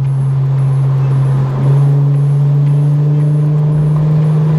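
An Infiniti Q50S with the VR30 engine accelerating on the road, heard from inside as a loud, steady engine drone that rises slightly in pitch, with no talking.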